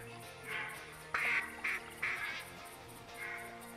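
A flock of ducks quacks in TheHunter Classic, with several loud nasal calls in short uneven bursts over a quiet outdoor background.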